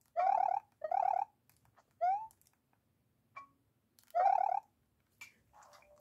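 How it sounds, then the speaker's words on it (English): A cartoonish dog sound effect from a green enemy on music blocks in a Super Mario Bros. game: short, bright, pitched yaps come in quick pairs and singles, separated by silence, with small chirps and clicks between. "The green one plays a dog sound effect."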